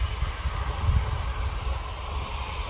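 A Ryanair jet descending to land at Manchester Airport, a steady low engine rumble and broad roar holding level without talk.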